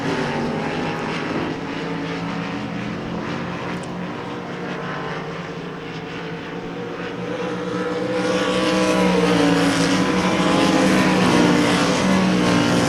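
Race cars roaring around the dirt oval at Devil's Bowl Speedway, a continuous loud engine drone that swells louder in the second half as the field passes close.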